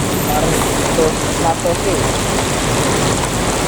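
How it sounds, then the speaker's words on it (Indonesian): Rain pours steadily during a motorbike ride, a dense, loud wash of patter with no breaks, while a voice speaks briefly over it. "Ini kita hujan."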